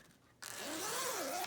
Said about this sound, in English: She does have the side zip.